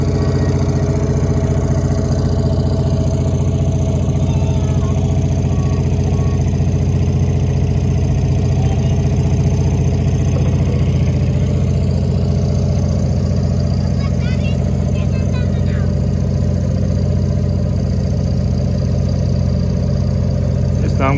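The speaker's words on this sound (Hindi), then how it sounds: "बोट स्टार्ट हो गई है" A motorboat engine runs steadily after starting on a dam reservoir near Mirpur, a loud continuous low drone throughout, with wind and water noise and people talking over it.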